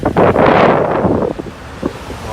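Sea waves wash ashore at Utrish on an overcast day, a broad rushing surge blended with gusty wind buffeting the microphone, then easing into softer splashes.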